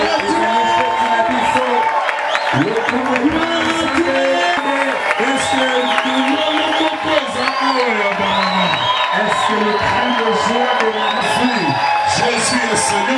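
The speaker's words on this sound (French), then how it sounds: "Est-ce que tu peux applaudir, pousser des cris de joie?" A large crowd at an evangelistic campaign meeting applauds, cheers and whoops with joy in a loud, sustained roar, with shouted voices rising over the clapping throughout.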